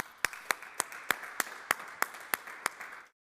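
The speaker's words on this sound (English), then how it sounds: "a round of applause for all of you" Ten sharp, evenly spaced claps from a small audience cheering the top 10 finalist teams at a startup pitch day, single hands striking about three times per second and fading out at the end.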